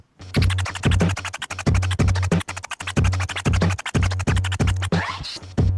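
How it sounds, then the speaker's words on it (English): Chirp scratches on a DJ turntable over a steady beat at about 92 BPM, short and punchy, with rapid cuts repeating evenly in a loud, close rhythm and no voices. "All right, let's try and chirp that now."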